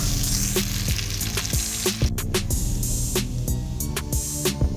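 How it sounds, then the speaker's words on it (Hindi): Chopped onions fry in ghee in a kadai for village-style baingan ka salan, a loud continuous sizzle broken by sharp spoon clanks and scrapes at irregular intervals, heard up close with nobody speaking. "तो हमने सबसे पहले गोल्डन ब्राउन कलर आने तक हमने प्याज फ्राई करने हैं।"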